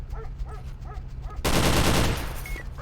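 A sharp, loud burst of rapid gunfire crackles in the tactical shooter True Combat: Elite, lasting under a second amid quieter game ambience and faint background tones.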